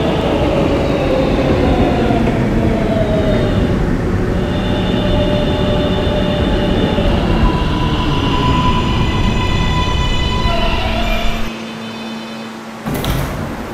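An R143 subway train on the R local line rumbles steadily along the track, with rising and falling whines of the motors, and ends with a sharp clunk, then a quieter hum.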